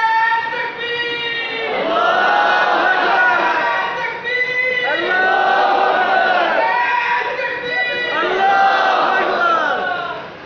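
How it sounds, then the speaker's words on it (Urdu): A large crowd at a religious gathering chants slogans in unison, loud and close, the voices rising in repeated swelling phrases that fill the whole stretch without pause. "نعرے لگا رہا ہے"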